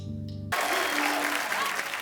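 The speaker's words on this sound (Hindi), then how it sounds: "जोरदार तालियां" A studio audience on a Hindi comedy talk show bursts into loud, dense clapping right after a short tonal snippet, sustained and close for over a second.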